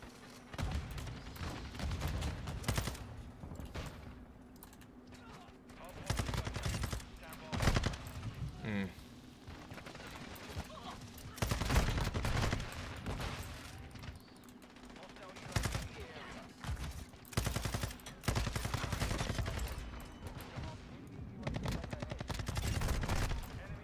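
Video game shotgun gunfire rings out in loud repeated bursts, some rapid-fire volleys and single sharp blasts spread across the stretch, with a steady low hum and intermittent talk between shots.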